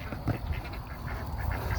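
Farm ducks at feeding time, several birds quacking in overlapping, continuous chatter close by, with a steady noisy bed of calls throughout.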